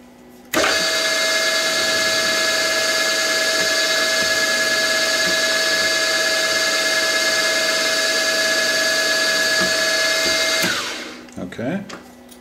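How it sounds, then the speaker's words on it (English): A steady, high-pitched tap drill whine on a milling machine, drilling before a 4 mm tap, runs continuously for about ten seconds, then spins down and stops, followed by a few light clicks. "Okay, that's the tap drill"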